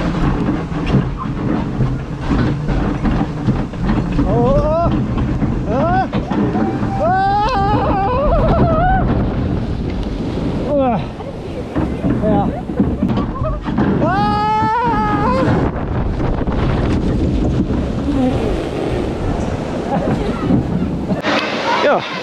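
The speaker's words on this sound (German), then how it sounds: "Dann fahren wir jetzt mit der Wildwasserbahn." A log flume ride at Schwaben Park on a cool, rainy day, with rushing water and gusty wind noise filling the scene and people talking and shouting excitedly throughout.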